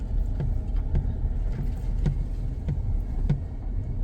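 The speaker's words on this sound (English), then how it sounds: "This is actually my first time driving on this road." A car driving along a road on a construction site, a steady low engine rumble and road noise with faint rhythmic thumps as the tires roll over bumps, close and continuous with no talking.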